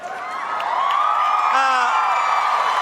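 Crowd cheering and whooping at the 2012 MTV Video Music Awards, a loud, steady roar of voices building over the first second and holding, with a brief rising shout partway through.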